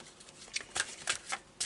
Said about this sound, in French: je vais prendre une carte conseil